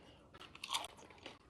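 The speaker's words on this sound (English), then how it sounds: "You heard that crunchiness?" Crispy battered onion ring bitten and chewed close up, a sharp crunch peaking midway followed by a few softer crackly chews, with no talk.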